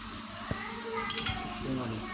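Rice for chicken fried rice hisses softly in a pan while being stirred, with a low sizzle underneath occasional clinks and scrapes of a spatula against the metal.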